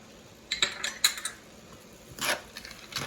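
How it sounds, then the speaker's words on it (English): Cashew nuts drop into a pan as butter chicken is cooked, making small clinks and clatters in a few bursts, fairly quiet and close, with a brief rustling scrape afterward. "I'm going to add the cashew nuts at this time"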